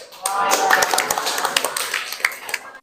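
Classroom audience clapping after a student group presentation, a scattered burst of hand claps of moderate loudness tapering off, with voices murmuring underneath.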